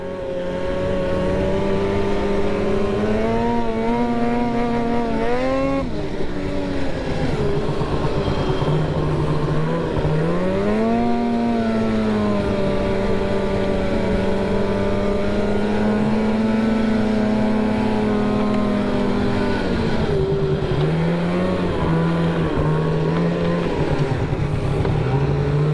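A Polaris Khaos 800 snowmobile engine runs loud and close, revving up and easing off repeatedly with a sustained buzzing two-stroke drone and several pitch swoops.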